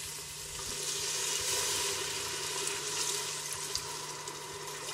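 Chicken broth is poured into a hot pot of collard greens, giving a steady, close hiss and sizzle with a faint liquid rush, with no talk.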